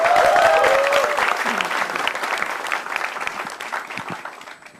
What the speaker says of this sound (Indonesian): Tepuk tangan untuk Aldes.